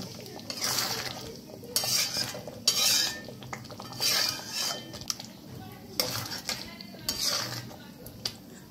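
Mughlai chicken with ghee, garam masala and kasuri methi is stirred in a pan, a spoon scraping and clattering in repeated rhythmic strokes over a soft, steady background.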